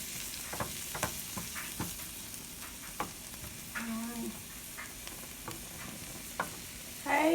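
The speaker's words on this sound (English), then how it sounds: "we are sauteing our red and yellow bell peppers just for a brief moment for our salmon patties." Red and yellow bell peppers sauté in a pan for salmon patties, a steady close sizzle and hiss with scattered ticks of stirring and a brief louder scrape near the end.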